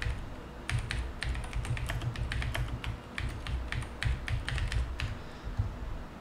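Someone types a project description on a computer keyboard in quick, irregular bursts of close, crisp key clicks, with short pauses between runs.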